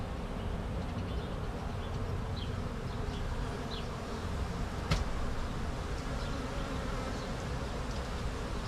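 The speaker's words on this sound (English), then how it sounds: "it's like all these bees are hiding one way" A dense, continuous buzz of many honeybees nesting inside a children's playhouse, close and steady, with no voices.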